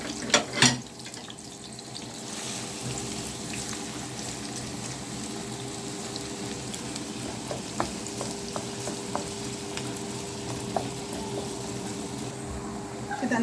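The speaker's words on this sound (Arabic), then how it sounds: "هنزل بقى البصل، هديله تشويحه الاول" Chopped onions sautéing in a pan for a meat filling, a steady soft sizzle throughout with occasional clicks and stirring scrapes, close and moderately quiet.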